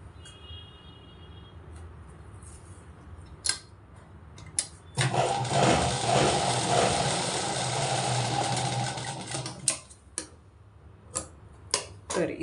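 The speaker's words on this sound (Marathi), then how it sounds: "आपण इथे अशी एक शिलाई किनारीवरनं एक शिलाई मारून घेणार आहोत" A sewing machine runs a line of stitching along the edge of fabric pieces for a shoulder seam: a sustained mechanical whir for several seconds, close and fairly loud, framed by scattered ticks and clicks before and after.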